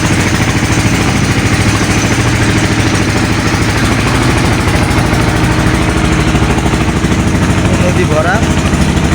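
A trawler boat's engine throbs steadily and loudly throughout, a low chugging drone on a river crossing toward the Sundarbans near Mongla port, with voices talking faintly underneath.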